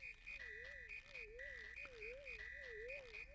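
In Super Mario RPG, a frog croaks with a repeating warbling, wavering call layered over steady electronic tones. The sound loops rhythmically and clearly, with no talking.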